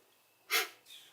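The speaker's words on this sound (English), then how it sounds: "Sorry about the sniffles." A single short, close sniffle through the nose, a quick breathy intake that fades, followed by a fainter second breath.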